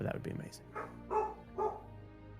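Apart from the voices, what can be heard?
dog barking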